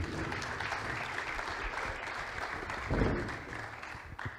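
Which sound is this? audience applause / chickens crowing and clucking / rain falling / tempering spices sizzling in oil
audience applause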